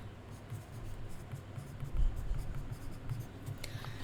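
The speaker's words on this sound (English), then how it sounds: "Okay, I'm gonna write that down." Pen scratching across paper as a note is written by hand, faint and close, with short strokes in an irregular rhythm over quiet room tone.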